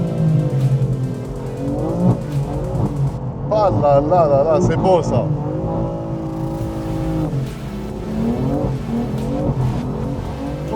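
Rally car drifting sideways on a stage, engine revving hard with rising and falling pitch and tires squealing during the slide, loud and close, with someone talking excitedly over it.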